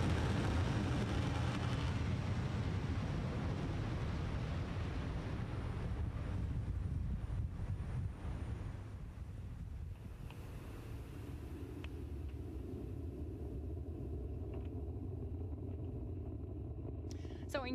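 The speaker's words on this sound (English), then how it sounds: "Falcon 9 has successfully lifted off from Launch Complex 39A at Kennedy Space Center" A Falcon 9 rocket lifting off from Launch Complex 39A at Kennedy Space Center, a deep, continuous rumble and roar heard from a distance that slowly thins out. A commentator speaks over it.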